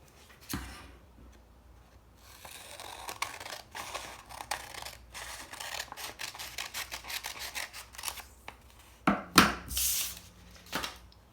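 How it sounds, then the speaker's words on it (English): Scissors snip through a folded paper flap for an origami bird, a run of quick, faint cutting clicks and paper rustles up close, ending in a louder crinkle of handled paper. "So now what we're going to do is cut off this flap."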